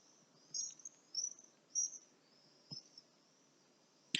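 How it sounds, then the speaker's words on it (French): Small birds passing outdoors at dusk give a few brief, thin, high chirps spaced about half a second apart, faint against a quiet evening background, with a soft click near the end. "Petits oiseaux qui passent."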